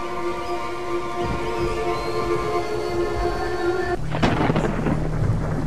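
Steady rain pours down, with a rumble of thunder and a burst of heavier noise near the end.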